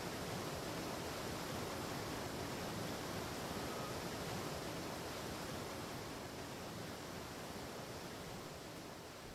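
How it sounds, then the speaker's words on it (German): A loud waterfall in the survival video game Atlas roars as a dense, steady wash of noise that holds unbroken at close range, with no voices over it. "jetzt hier so direkt an einem Wasserfall zu bauen, ihr hört ja, ne? Es ist halt mega laut."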